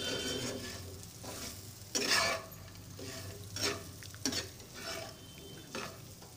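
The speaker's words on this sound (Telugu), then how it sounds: "ఇంకా one or two minutes fry అవ్వాలండి" Purple yam (pendalam dumpa) frying in a pan at medium flame, a soft continuous sizzle with occasional louder bursts of crackle and stirring, quiet and near, no speech.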